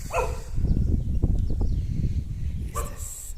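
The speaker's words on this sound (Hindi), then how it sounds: "ये यहाँ पे डॉगी है जिसका नाम है भूरा" Dog at a hilltop villa in Chanderi barks a few times, fairly close, over a steady outdoor background.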